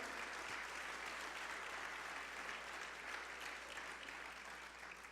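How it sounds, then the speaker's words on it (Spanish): A church congregation applauds during a sermon, a dense, steady wash of clapping from many hands that carries on evenly for the whole stretch, with no voices standing out. "Give an applause to the Lord."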